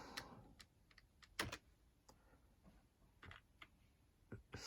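Keys on a computer keyboard running AmigaOS 4.1 are tapped in short, irregular bursts of sharp clicks while a command is typed, close but quiet against a faint steady hiss, with no voice.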